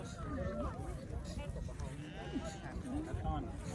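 A flock of sheep bleats repeatedly, wavering calls overlapping near and far, as a sheepdog herds them on a hillside at Doi Chang in Chiang Rai, with people talking throughout.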